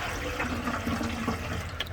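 Warm water from a bucket pours into the fuel tank of a classic Honda motorcycle under restoration, a steady splashing, gurgling flow lasting the whole moment.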